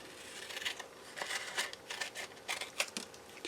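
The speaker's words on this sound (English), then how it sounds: "I'm going to cut it from point to point." Scissors cut a paper square from point to point for a first grade fish collage, a close series of soft, crisp snips in an irregular rhythm.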